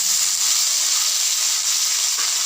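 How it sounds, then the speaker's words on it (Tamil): Sliced onions and curry leaves sautéing in a pan, heard as a loud, dense, steady hiss of sizzling oil with little variation, close up and without speech. "இப்போ நீல வாக்கில் கட் பண்ணி வச்சுருக்கிற பெரிய வெங்காயம் கருவேப்பிலையும் சேர்த்திக்கலாம் இதை நல்லா வதங்கணும்"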